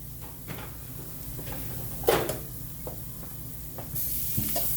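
Onions fry in a pan with a steady, even sizzle throughout, broken by occasional stirring scrapes and a sharper knock near the middle, close and moderately loud.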